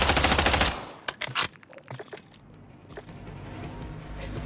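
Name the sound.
gunfire from a Warzone loadout in a video game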